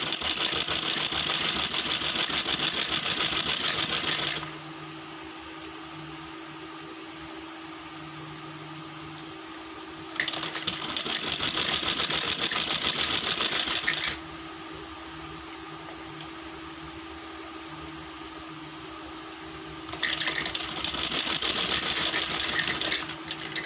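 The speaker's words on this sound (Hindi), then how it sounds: "यहाँ से अब इसके ऊपर सिलाई लगाऊंगी बारीक बारीक पाइपिंग छोड़ते हुए" An electric sewing machine stitches over narrow piping on a kurti in bursts of several seconds, a loud, close, rapid whirring hum that stops and restarts, with quieter motor hum between runs.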